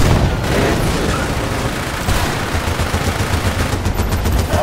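Tank gunfire in a video game: rapid, loud bursts of shots and booms repeat throughout, dense and continuous.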